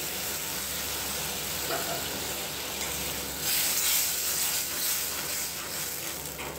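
Curry leaves and whole cumin sizzle loudly in hot oil with a dense, crackling hiss that swells midway and keeps going steadily, close by and with no talking.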